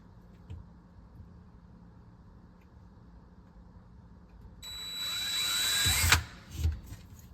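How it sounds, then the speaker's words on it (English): A cordless drill with the smallest bit whines up close while boring a little pilot hole during a reverse osmosis system installation, a short rising burst after quiet handling, then a few knocks. "I've just got the smallest bit I could find just to make a little pilot hole"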